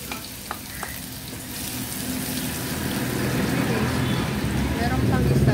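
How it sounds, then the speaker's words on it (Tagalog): Garlic sizzles in hot oil in a pan, a steady crackling fry that grows slightly louder over time, with a few faint utensil clicks early on and no speech. "Hintayin lang natin na mag-brown yung ating garlic."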